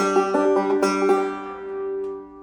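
Old-time banjo lick in single-string style, from a South Carolina player of Mississippi Sawyer: a few quick plucked notes followed by a ringing, sustained tone that fades out, close and solo.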